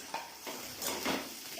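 Onion and carrot fry in a pan for masala Maggi noodles, a soft sizzle under quiet stirring scrapes and light utensil knocks, faint and close.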